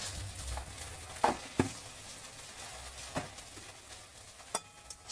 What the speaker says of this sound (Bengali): ওটাকে একটু ভেজে নেব